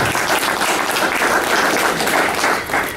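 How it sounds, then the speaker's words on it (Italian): Audience applause greeting a guest speaker at a meeting on protecting central Italy's waters, an even, full round of clapping from a room of people that holds steady for three seconds and thins slightly at the close. "Gli farei un applauso di benvenuto"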